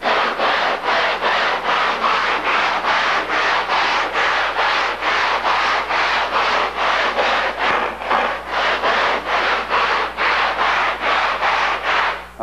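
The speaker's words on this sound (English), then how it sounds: "I'm also not going to put as much pressure there so that I sand that area slower." Sandpaper rubbed by hand along an aircraft main wing, with loud, close, continuous back-and-forth strokes in a steady even rhythm of about two per second throughout, with no voices.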